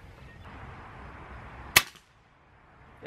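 A single sharp crack from a suppressed Daisy 880 airgun, loud and close, rising out of quiet outdoor background and trailing off quickly into near silence.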